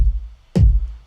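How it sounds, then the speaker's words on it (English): A single snare-like drum hit from a zouk beat built in Ableton Live lands about halfway through, a sharp broadband crack with a short low thump under it, over a quiet bed of low rumble. "This is kind of like a snare sound almost."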